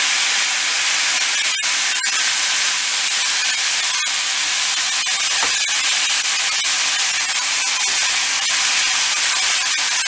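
Tomatoes dropped into hot oil already used for frying eggplant, a loud dense hiss of sizzling that holds throughout, broken by scattered sharp spits and crackles.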